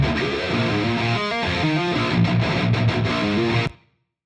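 Distorted, reamped heavy guitars captured through a Bad Boy amp model, playing a dense chugging riff with a thick low end for about three and a half seconds, then stopping abruptly.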